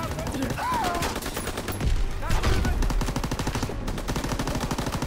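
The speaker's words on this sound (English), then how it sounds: "They fire on the infantry by the tank." Sustained automatic gunfire in the World War II shooter Call of Duty WWII, rapid machine-gun bursts rattling continuously with heavier booming shots in the middle, loud and close, with faint voices underneath.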